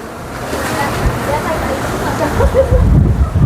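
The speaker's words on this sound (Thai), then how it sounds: "เสียงลมแรงมากเลยนะครับ" Gusty wind roars and buffets loudly at the pagoda of Wat Paknam in Thailand, with rushing, rain-like noise growing stronger toward the end as rain arrives.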